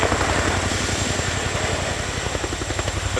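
An RAF Chinook HC.6 twin-rotor helicopter performs a flying display at RIAT 2025. Its rotors beat in a fast, even low thud under a loud, constant turbine whine, steady and close throughout.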